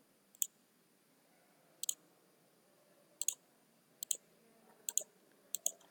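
Mouse clicks while placing and rotating resistors in circuit simulation software: six sharp double-click pairs spaced about a second apart, crisp and close over a quiet background, with no talking.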